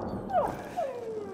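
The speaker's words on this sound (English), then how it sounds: "I found the doggy!" A dog in the zombie video game Dying Light 2 lets out two brief whining, howl-like calls with sliding pitch, moderately loud over a low background of game noise.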